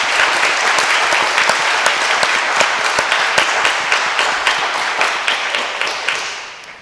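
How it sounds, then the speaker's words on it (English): Loud, close applause for floor speakers in a debate chamber, dense clapping with sharp individual claps standing out, sustained throughout and gradually thinning at the end. "please give a round of applause to all of our floor speakers."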